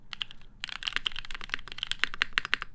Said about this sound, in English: but when I'm actually typing, it's more like